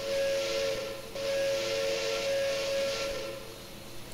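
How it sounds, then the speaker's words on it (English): A PRR E6 4-4-2 Atlantic steam locomotive's whistle in Train Simulator Classic holds one steady, loud blast lasting about three seconds over steam hiss, then tails off into background hiss. "I do like the whistle overall."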